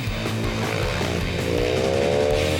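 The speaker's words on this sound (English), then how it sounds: "We're out with the brand new KTM 450cc Enduro machine." A brand-new KTM 450 XCR-W enduro motorcycle with a wide-ratio gearbox, ridden off-road at a dirt riding area near Krugersdorp; a steady, loud engine drone rises in pitch as it revs up, close by, with no talking.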